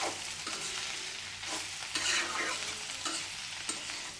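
Vegetable bhaji sizzles in a pan, a steady close frying hiss broken by repeated scraping strokes of a spatula stirring, with no voices.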